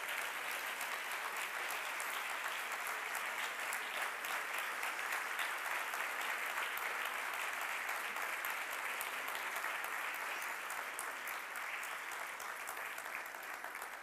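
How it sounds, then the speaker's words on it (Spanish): Strong, sustained applause from the audience at a campus anniversary closing ceremony, greeting the rectors with dense, even clapping that continues without a break for many seconds. "Un fuerte aplauso a los rectores."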